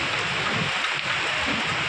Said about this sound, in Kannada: ಸಿಕ್ಕಾಪಟ್ಟೆ ಮಳೆ ಇದೆ